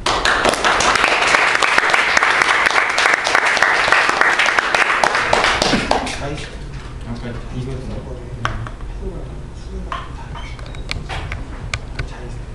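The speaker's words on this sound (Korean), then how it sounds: "자, 일단 뜨거운 박수로 모시겠습니다." An audience gives warm applause to welcome a speaker at an Ubuntu meetup. Loud, dense clapping runs for about six seconds, then drops away to a quiet room with a few scattered claps and someone speaking.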